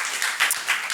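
A brief burst of audience applause at a science lecture, many hands clapping at a moderate distance, fairly soft and dense.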